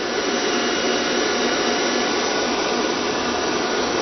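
An electric stand mixer beating pale yellow-tinted icing in a metal bowl, a steady loud whirring drone that stays constant throughout with no talk.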